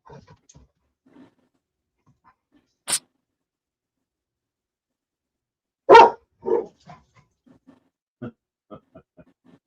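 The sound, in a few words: dog barking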